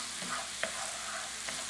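Mushrooms sautéing in chicken fat are stirred in the pan, a soft steady sizzle broken by a few distinct scraping knocks of the spoon, close and with no talk.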